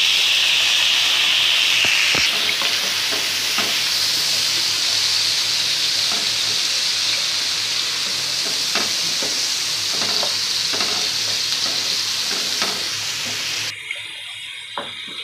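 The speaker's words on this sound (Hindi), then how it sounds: "तड़का लगाऊंगी सिर्फ प्याज टमाटर और हरी मिर्ची" Steady, loud sizzling of onion, tomato and green chilli tempering frying in a pan with occasional stirring clicks, continuing without speech until it drops away near the end.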